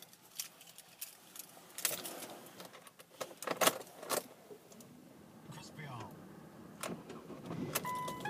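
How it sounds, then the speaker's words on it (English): A silver manual Ford Focus Zetec TDCi diesel is started after keys jangle and clicks sound, the engine catching and settling into a quiet idle, with a person speaking nearby. "And just getting the vehicle started for you guys."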